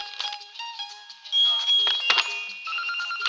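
A telephone rings in a Marathi film scene, bright electronic tones warbling and repeating at close range, fairly loud and alone.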